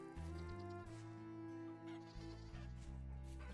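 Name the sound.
goat bleating in the video game Vintage Story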